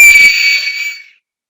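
A single loud, shrill blast on a 3D-printed plastic whistle made on a Prusa printer lasts about a second before cutting off into silence.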